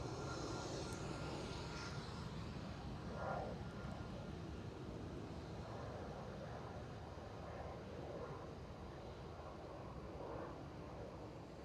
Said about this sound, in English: 737 leaving on the eastern runway was 2XL Aviation 737-700 bound towards Batumi in Georgia